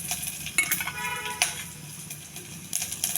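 Onion frying in oil with cumin, mustard seeds and curry leaves for a beerakaya pappu curry, a steady soft sizzle with a few sharp stirring scrapes of a spoon against the pan, close and alone.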